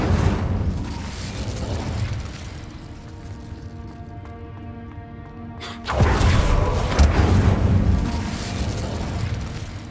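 Incendio fire spell cast in Hogwarts Legacy, a sudden loud fiery whoosh and burst with a deep boom that erupts partway through and roars on, following a quieter stretch of tonal game music and rumble.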